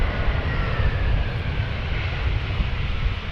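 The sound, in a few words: Trade Air airliner at Amsterdam Schiphol Airport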